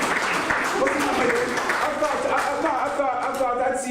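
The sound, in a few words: audience applause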